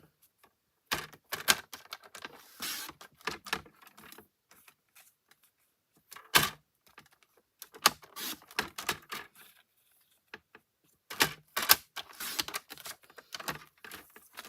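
Paper trimmer slicing white cardstock, a run of sharp clicky mechanical strokes in irregular bursts with quiet gaps, close and fairly loud with no talking.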